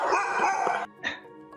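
Laika hunting dogs at a kennel, a loud nearby bark bursting out, then a shorter yelp after a pause, with faint trailing yips.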